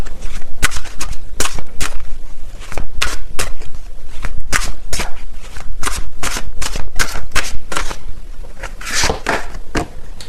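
Tarot cards being shuffled and drawn, giving a steady run of sharp, close riffling snaps and flicks with brief pauses between bursts, with no talking.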